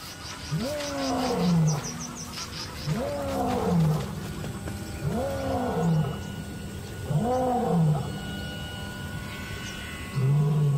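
A male lion in the Botswana wilderness roars at dusk, a rhythmic series of deep, powerful groaning calls repeating every couple of seconds, loud and fairly close.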